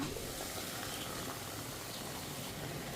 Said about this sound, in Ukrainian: Тим часом вода у мене закипіла.